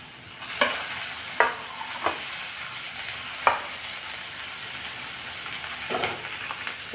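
Coarsely crushed ginger and garlic fry in hot oil, a steady close sizzle broken by several sharp stirring scrapes spaced a second or so apart.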